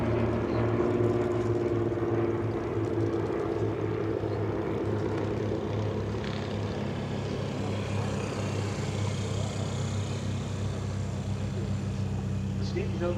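Pair of Navion propeller planes flying together at AirVenture Oshkosh, a steady distant engine drone throughout, with an announcer talking over it on a public address.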